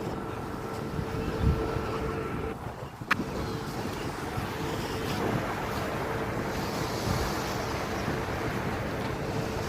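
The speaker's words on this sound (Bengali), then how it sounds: "সাগরের ঢেউ" Sea waves break on the shore in a continuous rolling wash, heavily mixed with wind buffeting the microphone at a steady, moderate loudness.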